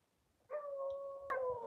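A hunting dog's drawn-out baying howl on a trail in desert mountain lion country, two long mournful notes, heard faintly at a distance.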